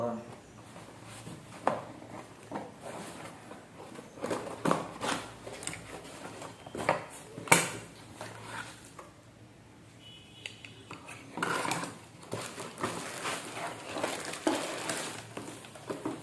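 Scattered clinks and knocks of ceramic saucers being picked up and set down, close by, mixed with rustling and occasional talk.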